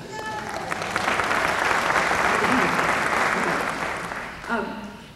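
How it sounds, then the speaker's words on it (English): Concert audience applause at a 1994 Pride concert by a gay men's chorus, a dense sustained wash of clapping across the whole stretch, swelling then easing, with voices faintly under it and a brief shout near the end. "Please, clap."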